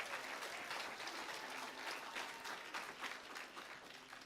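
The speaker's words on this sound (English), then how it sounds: "Clap to the Lord." A church congregation claps together in a steady, dense wash of applause that fills the space, close and continuous without any voices standing out.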